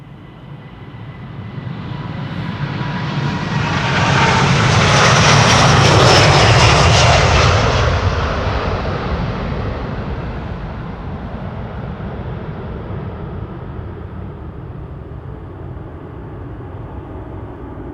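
A Delta Airlines jet departing Amsterdam Schiphol for Boston roars loudly as it takes off, the engine noise swelling to a peak and then fading slowly into a sustained distant rumble.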